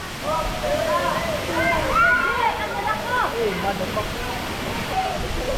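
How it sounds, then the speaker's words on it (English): A high waterfall pours into a small cave beside a hanging bridge, giving a steady, full rush of falling water throughout, with voices talking over it. "Check out this waterfall. It is so high."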